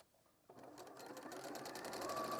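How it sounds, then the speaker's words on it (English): Sewing machine stitching quilt pieces together with a quarter-inch seam for a Carpenters Star quilt, starting after a quiet moment and building into a steady, close, rapid whirring rhythm. "I'm just going to sew those together."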